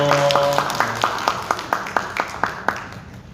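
A church congregation at a Sungkyul church Sunday service claps in a slow, regular rhythm, a dozen or so distinct claps, fairly close, gradually softening, with a faint tone at the start.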